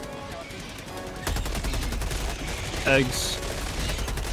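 A machine gun sentry turret in Helldivers 2 fires rapid sustained bursts that grow louder partway through, with a brief spoken word heard over the shooting.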